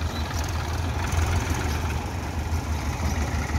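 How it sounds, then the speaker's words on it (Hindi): A Hero tractor's engine idles in a field, a steady, loud low rumble that holds without change throughout. "हीरो ट्रैक्टर है"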